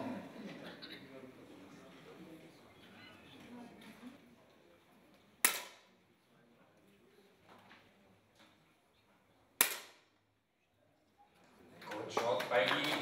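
Two sharp, separate 10m air pistol shots crack out at a para shooting world championship, each a sudden loud snap spaced a few seconds apart, with quiet range ambience and faint voices around them.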